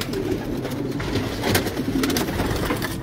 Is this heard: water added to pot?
no